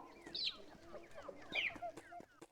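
Chicken clucking in a video game's chicken dimension, a few bright, short clucks and squawks repeating over a busy low background hum, with no talk.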